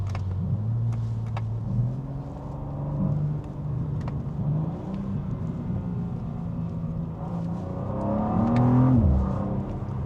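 A BMW M2 G87 with a six-cylinder engine revs up through its range, pitch climbing in steady steps and peaking before easing off near the end, loud and close with no talking.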